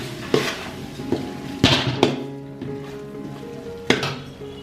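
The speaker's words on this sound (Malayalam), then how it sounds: "അപ്പൊ ആ വെന്ത് വന്ന ചിക്കനിലേക്ക് നമ്മൾ മല്ലിയില, അതുപോലെ പുതിനയില രണ്ടോട്ടൊക്കെ നമ്മളിങ്ങനെ നന്നായി മിക്സാക്കാണ്" A spoon scrapes and clanks against a pot as cooked chicken is mixed with coriander and mint leaves for a Dindigul Thalappakatti biryani. Irregular metallic knocks stand out over soft stirring, with no talking.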